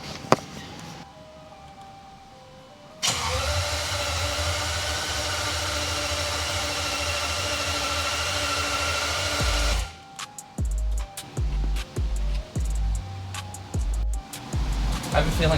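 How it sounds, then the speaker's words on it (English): A BMW E31 under restoration being cranked over after its batteries are reconnected gives a loud, steady whirring drone for several seconds, then a run of choppy, uneven bursts. "I'm going to plug the batteries in and we're going to crank this over"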